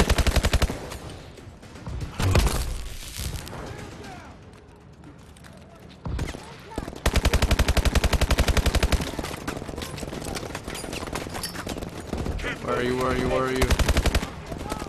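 Rapid automatic gunfire from Call of Duty: Advanced Warfare, played on Xbox One, rattles loudly in repeated bursts through a busy game soundtrack, with a player's voice talking at times in between.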